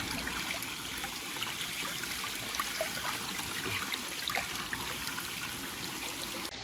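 A hand swirls through water to loosen single-seed oysters during cleaning, giving a soft, steady sloshing and trickling that stays faint and even throughout, with no talking.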